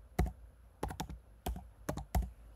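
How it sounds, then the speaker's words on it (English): Light typing on a MacBook keyboard: a few quick clusters of crisp key taps separated by short pauses, close and fairly quiet, with no voices. "you can type in displays"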